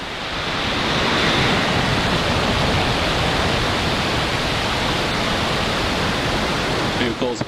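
A SpaceX Falcon 9 lifts off on the Transporter-2 mission with a broad, rushing roar of engine noise, steady and loud from start to finish, like heavy surf, then faint crackles near the end.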